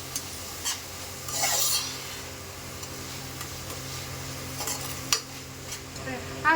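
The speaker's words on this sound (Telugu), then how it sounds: "అల్లం వెల్లుల్లి పేస్ట్ కూడా వేసుకోవాలి ఫ్రెండ్స్. కలపాలి కలిసేంత వరకు కలపాలి" Ginger garlic paste being stirred into an eggplant curry, a spoon scraping and stirring through the pan with a low sizzle underneath and a few sharper clinks against the pan.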